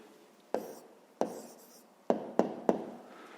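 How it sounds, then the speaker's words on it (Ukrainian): A pen writes an answer on paper in a few quick, close strokes, each a short scratchy burst with brief pauses between. "Ну, а тепер записуємо відповідь."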